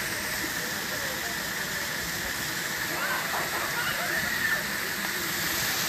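A steady, loud roar of a deep waterfall at Shokhuvi Village, Chumukedi, a dense continuous rush of falling water filling the scene from start to finish, with faint voices of visitors barely audible beneath it.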